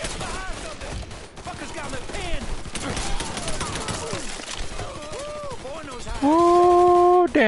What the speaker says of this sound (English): This guy's shooting from the damn window.